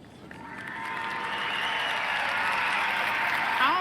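Audience applause fills a room during a live election results broadcast, a dense steady clatter of many hands swelling within the first second and holding loud and even throughout.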